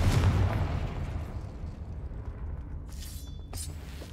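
A Confringo fire spell explodes in Hogwarts Legacy, a heavy booming blast that is loudest at the start and then rumbles on, with a few sharp crackling bursts near the end.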